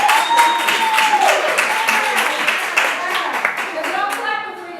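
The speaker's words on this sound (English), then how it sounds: "I need y'all to clap a little louder for me" An audience claps steadily in a room, dense hand claps mixed with a few faint voices and a brief whistle-like tone.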